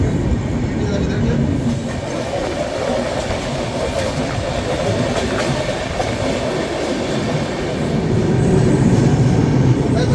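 A Rajdhani Express rumbles through Bhusawal junction without stopping, heard from aboard as a steady loud rolling roar with rail clatter, building slightly louder near the end.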